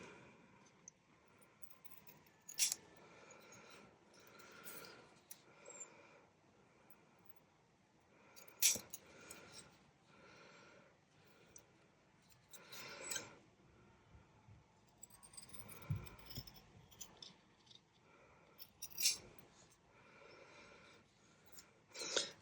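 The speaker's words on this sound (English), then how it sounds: "So let's get the scissors." Intermittent snips and handling noises at close range, a few sharp clicks scattered among quieter rustling and scraping, with no talking.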